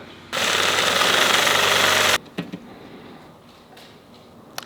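A power drill whines loudly and steadily for about two seconds, then stops, followed by a few clanks and taps of metal.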